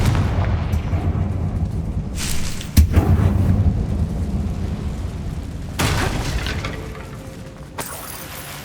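A Confringo blasting curse from the Hogwarts Legacy video game erupts in loud, booming explosions, with a sharp burst early on and a second rumbling blast later, over continuous game ambience.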